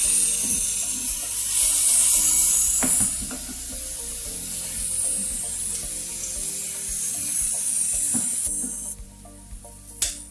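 Hibachi chicken, steak and shrimp sizzle loudly in a hot pan, a bright constant hiss broken by scraping and rattling strokes from continuous stirring, with the sizzle easing near the end.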